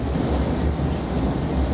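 A classic train running through the Japanese countryside near Oarai station, heard as a steady close rumble of rolling wheels and rail noise with faint rhythmic clatter.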